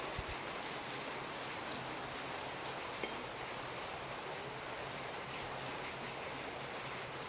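A steady, soft hiss of light rain falling without pause, with no voices and no distinct drops standing out.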